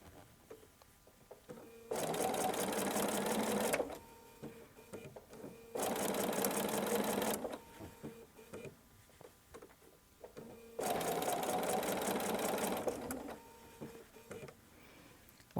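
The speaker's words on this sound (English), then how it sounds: "Now I can maneuver this and continue sewing." A sewing machine stitches quilt fabric for a melon block quilt in three steady runs of about two seconds each, separated by quiet pauses.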